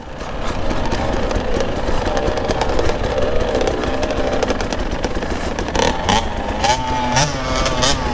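An 85cc dirt bike engine revs on a muddy track, buzzing loud and near in steady bursts, rising and falling with throttle, with another bike's engine mixing in toward the end.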